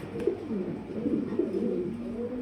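Pigeons cooing at a pigeon farm, soft rolling coos overlapping in a continuous murmur, fairly close but quiet, with no voices.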